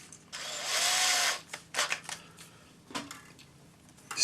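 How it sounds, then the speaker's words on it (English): A cordless drill whirs in one steady burst for about a second while spinning a mandrel to coil wire, followed by brief scraping and handling clatter of the wire and tool. "Put the mandrel in your cordless drill."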